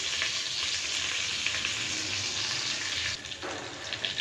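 Curry leaves, dry red chillies, cumin and mustard seeds sputtering in hot oil for a tempering, a continuous close hiss of sizzling that briefly drops near the end, with no voices.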